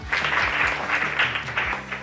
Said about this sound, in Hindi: बच्चों सब तालियां बजाओ